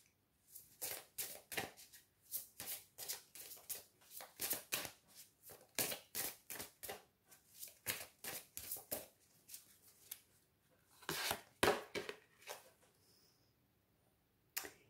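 Tarot cards being shuffled by hand, a long run of quick, crisp riffling bursts with short pauses between them, close and fairly quiet with no talking.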